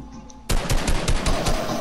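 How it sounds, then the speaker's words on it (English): An assault rifle fires in Fortnite zone wars: after a brief quiet moment, a loud, rapid burst of automatic shots rattles on steadily for about a second and a half. "Shoot him on the assault rifle"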